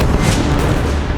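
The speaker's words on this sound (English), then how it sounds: "More and more Austrian cannon are pulled up and begin to pulverize the French line." Austrian cannon artillery roars in a dense, continuous barrage on a battlefield, a loud, low rumbling wash of booms with no pauses.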